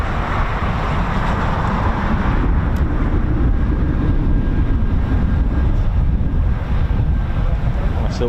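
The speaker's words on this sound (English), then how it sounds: "Four Typhoons taxiing out from our left on the north side of the base." Four Eurofighter Typhoon FGR4 jets taxiing at RAF Coningsby, a steady loud roar mixed with heavy wind buffeting on the microphone throughout.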